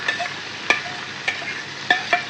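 Onion and garlic paste frying in a pan for a chicken dish, a steady sizzle with a few sharp scraping stir strokes from a spoon, close and alone.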